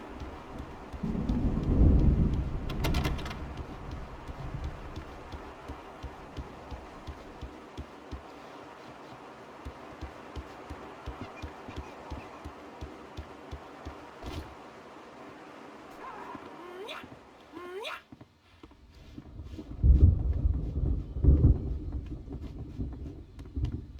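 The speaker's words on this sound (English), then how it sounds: "The storm is almost here." An approaching thunderstorm in the Alan Wake game, with low rolling thunder near the start and end over a steady backdrop of surf and wind. Faint clicks and a rising tone sit in the middle, and nobody speaks.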